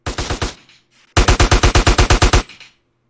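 Rapid bursts of automatic gunfire in the video game GTA San Andreas, a short volley followed by a pause and then a longer, loud, evenly spaced string of shots that stops abruptly.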